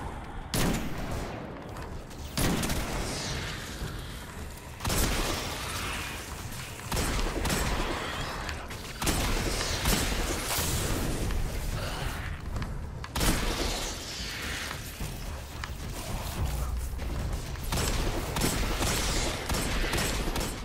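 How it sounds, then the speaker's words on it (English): Hand cannon in Destiny 2 firing rapidly, loud sharp shots in quick repeated bursts with brief pauses between volleys, mixed with game effects and no talking. "I didn't realise the hand cannon fired as fast as that"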